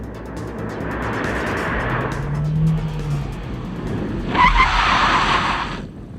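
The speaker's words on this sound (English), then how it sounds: "that squeal right there tells you there's no anti-lock brakes on this base Civic" A base 2001 Honda Civic without anti-lock brakes skids under hard braking, its tires squealing in two loud stretches over steady road noise, with no talking.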